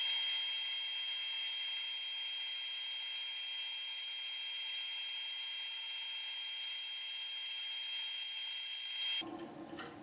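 Accu-Slice system slicing thin yellowheart wood veneer, a steady high-pitched whine of the spinning cutter running without change for several seconds, then cutting off abruptly into a low mechanical rumble.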